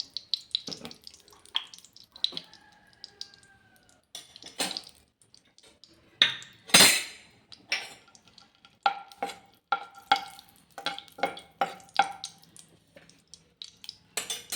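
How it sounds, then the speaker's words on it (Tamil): Cashews, raisins and grated coconut sautéed in ghee in a pan for a foxtail millet laddu, with irregular scraping stir strokes, a sharp clink midway and soft sizzling, close and without talk. "முந்திரி திராட்சை தேங்காய் பூ எல்லாத்தையும் இதில் வதக்கிக்கணுங்க"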